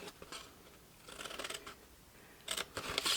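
Scissors cut through a milk carton being made into a gift box, with a few quiet, close snips and crisp crunching cuts in short separate bursts.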